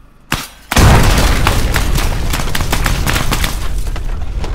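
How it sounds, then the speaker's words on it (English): A car bomb detonates in the military shooter game Arma 3, a sudden loud boom followed by a sustained roar and crackling debris, with rapid gunfire-like pops continuing throughout. "It is a car bomb."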